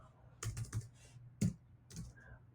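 Fingers tap on a computer keyboard in a few quiet, close clicks, a quick cluster followed by scattered single keystrokes.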